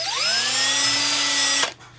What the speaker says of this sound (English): So we'll take the drill and we'll just stick it in there.